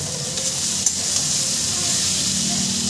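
A spiced fish curry with vegetables sizzles in a pan as it is stirred, a steady close frying hiss with soft scraping and a brief knock of the spoon against the pan.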